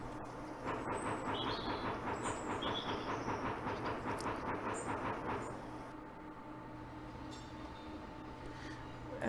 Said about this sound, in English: that train moving sound on the world map is not good